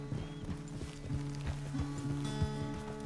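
Horse walking in Red Dead Redemption 2, steady clip-clop hoofbeats in a slow even rhythm, close and fairly quiet, with faint harness jingles and no talk.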